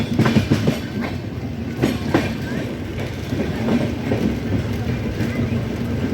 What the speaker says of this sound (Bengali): আমাদের এই ট্রেন কটক স্টেশনে থামবে না